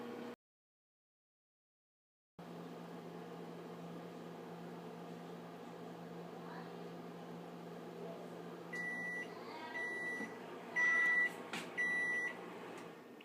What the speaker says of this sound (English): close the microwave. You go ahead for 1 to 2 minutes.